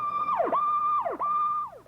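An ambulance siren wails in a repeating up-and-down sweep, three cycles close by and loud, with no one talking.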